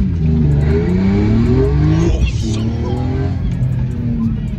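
A BMW M3 making over 300 hp launches from 3500 rpm on launch control, the engine held at a loud steady drone before it drops and climbs again as the car pulls away, close and continuous.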